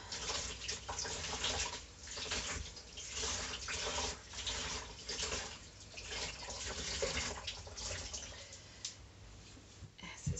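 Water runs steadily from a tap into a sink in a home, a continuous, close hissing splash that persists throughout with slight fluctuations, with no talking.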